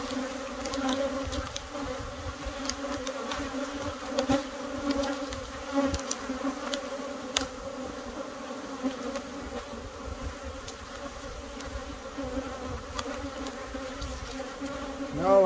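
Honey bees hum in an apiary during a brood health check, a dense sustained buzz near and far at once, with individual insects droning past close up.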